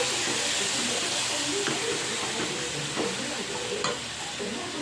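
Constant hissing sizzle of curry with masala water simmering in a pan, with occasional scraping stirs, steady and close, no voices.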